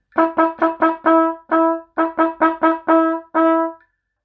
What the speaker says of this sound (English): One, two, three, play.